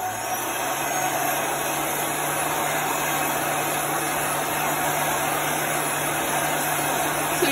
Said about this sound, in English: I'm going to take my heat gun and I'm going to dry this real quickly.